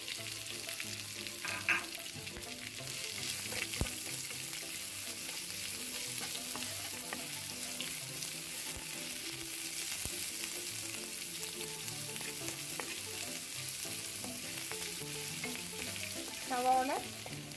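Curry leaves and chillies sauté in hot oil for a snake gourd and carrot thoran, giving a steady, close sizzle with occasional stirring scrapes and clicks throughout.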